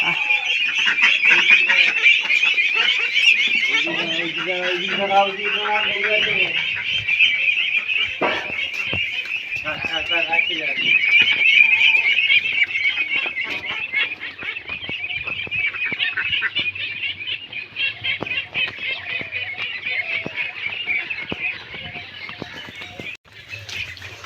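Ducks quack and honk in a dense, continuous flock chorus close by, loud and steady throughout with bursts of harsher calls, plus faint background chatter.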